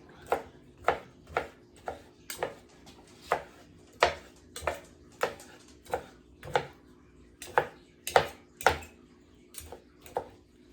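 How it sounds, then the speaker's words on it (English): Peppers rough-chopped with a knife on a cutting board for an orzo salad, about twenty sharp, close thuds in an uneven steady rhythm with quiet gaps between strokes. "Nothing fancy, just a simple, rough chop."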